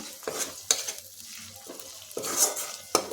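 Ginger and green chili paste frying with onion in a pan for an egg curry, soft sizzling broken by several sharp scrapes and taps of a spoon against the pan as it is stirred, close by with no talk.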